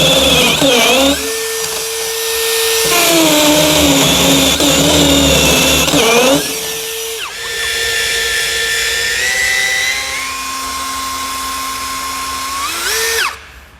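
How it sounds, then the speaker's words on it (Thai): Close and loud, an STR three-mode cordless drill in hammer mode works into concrete. Several sustained whining runs shift in pitch between stretches, and the last one cuts off abruptly. "มาต่อกับระบบที่ 3 นะครับ เจาะปูน เราหมุนมาที่รูปคอนนะครับ ก็เป็นระบบกระแทกเจาะได้"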